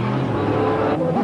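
A Ford Fiesta rallycross car at the 1991 Savenay rallycross, its engine droning loud and steady, close by, with a continuous roar throughout.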